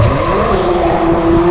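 A drift car with a Volvo engine at a spring drifting show gives a loud, steady engine roar with a sustained droning tone, running continuously throughout.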